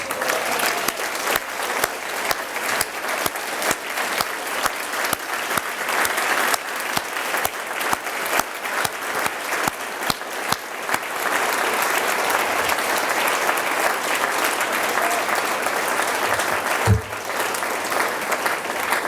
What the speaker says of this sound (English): stand up and applaud them